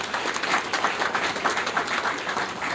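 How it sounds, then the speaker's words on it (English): Applause for Raj at a tech media startup expo: a dense crowd claps continuously, steady and full, with no talk over it. "A round of applause to Raj."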